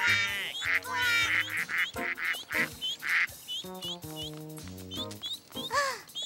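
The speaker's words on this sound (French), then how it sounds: "Celui-là, c'est le papa canard." Repeated duck quacking calls come in quick bursts over a musical, cartoon-like backdrop, loud and close, with brief gaps between the runs.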